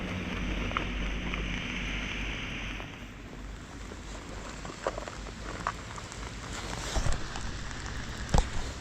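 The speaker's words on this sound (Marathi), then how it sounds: "तर चांगलाच पाऊस चालू झाला आहे" Rain begins falling on a road trip in Arunachal Pradesh, a soft steady patter with scattered louder drops and taps growing more frequent toward the end, against a faint wind-like wash.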